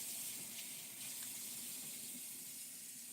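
Tap water running steadily into a sink while hands are rinsed, a soft continuous splashing hiss close by, with no speech.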